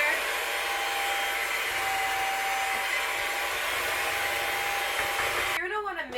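Electric hand beaters whirring steadily through a cream cheese mixture for raspberry cheesecake bars, a continuous high motor whine that cuts off abruptly near the end.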